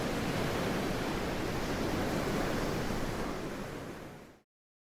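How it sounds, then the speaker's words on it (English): Steady ocean surf rolls through a starlit pool area in a VRChat world, a dense, constant wash of waves heard alone with no voices, before cutting off abruptly. "listening to the sound of the waves"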